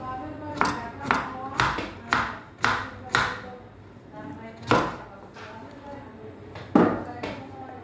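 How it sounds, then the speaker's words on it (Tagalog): A knife chops food into small pieces on a board, about a dozen sharp, close thuds in an uneven rhythm, with a person speaking over them. "Hiwain niya ng maliliit na ganyan."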